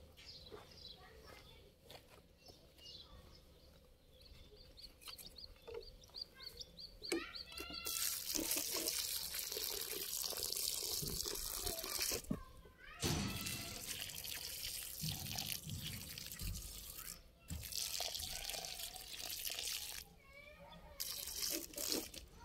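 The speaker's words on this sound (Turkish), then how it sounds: "Şimdi bunlara can suyu vereceğiz." Water poured from a bottle onto newly planted tomato seedlings, splashing and trickling in bursts with pauses, faint bird calls and rustling in the outdoor background.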